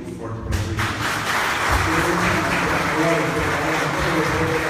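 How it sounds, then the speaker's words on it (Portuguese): Church congregation applauding at the request of the pastor, a steady wash of clapping throughout with some background murmur in a worship hall. "Gostaria que desse um aplauso bem forte para"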